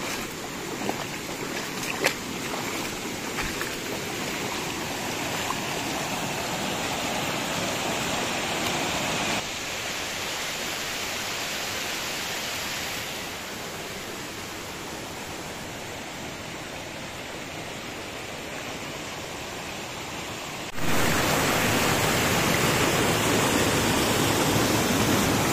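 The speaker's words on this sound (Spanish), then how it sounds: "el sonido del riachuelo" Small creek flowing in a natural outdoor setting, a continuous close rushing and burbling of water that stays loud throughout with shifts in level, no talking.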